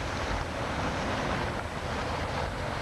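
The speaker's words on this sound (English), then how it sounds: "And I'm sure you can actually hear the running water." Flood runoff water gushes steadily from a small pipe draining the Pennsylvania Turnpike into the Wissahickon, a continuous loud broadband rush with no break and no voices.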